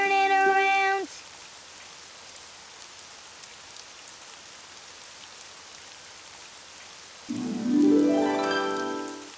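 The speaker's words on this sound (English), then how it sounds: "Oh, it's raining outside." Cartoon rainfall patters softly and evenly, with tonal sounds breaking in at the start and again near the end.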